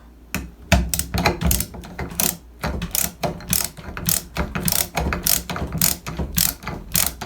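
A Phillips screwdriver drives a silver screw into a plastic toggle anchor in a hollow door, giving a run of rapid ratcheting clicks in regular bursts, close up, with no talking.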